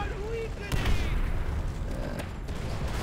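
Gunfire in the Call of Duty: World at War co-op mission Ring of Steel, with sharp shots striking a wall, two loud cracks standing out over a steady battle din while voices talk.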